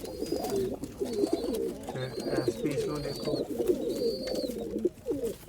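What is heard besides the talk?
pigeons cooing on a rooftop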